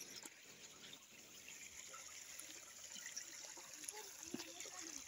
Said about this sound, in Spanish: Uno de los sonidos más bonitos de la naturaleza es esto, miren. Este ruido, el sonido del agua.